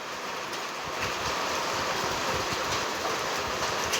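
Strong water rushing steadily out of a small channel outdoors, a broad continuous hiss and roar filling the whole clip at close range, with no talking.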